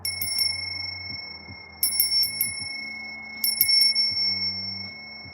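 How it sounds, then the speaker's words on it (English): A small hand bell rings in three separate bursts of quick bright dings, each a cluster of a few strikes with clear ringing tones that decay between bursts, close and alone. "I'm about to ring this bell"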